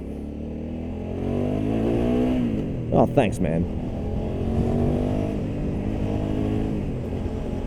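A Hyosung GT650R sports motorcycle engine hums and rises steadily in pitch as it accelerates, with a nearby rider's steady drone continuing while someone speaks briefly over it.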